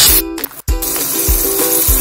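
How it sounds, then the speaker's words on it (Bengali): Fish with roe drop into hot oil in a pan and hiss loudly. The sizzle is close and bright, cuts out briefly partway through, then resumes with soft tonal thumps underneath. "তেলটা গরম হয়ে গেছে"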